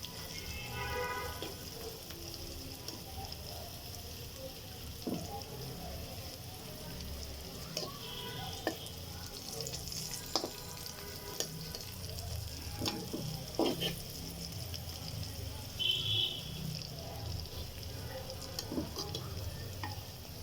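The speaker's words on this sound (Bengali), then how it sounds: "সিম আলু একসাথে লাল লাল করে" Broad beans and potatoes sizzle in hot oil in a wok, a steady frying hiss broken by occasional scraping stirs of a spatula, close and continuous with no talking.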